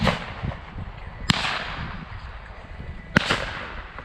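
Two sharp 12 gauge shotgun blasts at an outdoor dove hunt, sounding about two seconds apart, each a loud crack followed by a rolling outdoor echo.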